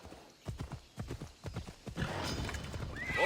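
A horse in Assassin's Creed Odyssey gallops with quick clip-clopping hoofbeats, then a loud whinny rises near the end; close and clear, with no talk.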